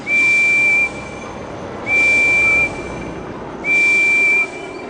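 A steam engine whistle from a Thomas & Friends video game sounds three times, each a steady, loud, high tone of just under a second, with a hissing background continuing between blasts.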